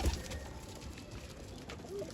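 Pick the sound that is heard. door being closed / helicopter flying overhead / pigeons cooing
pigeons cooing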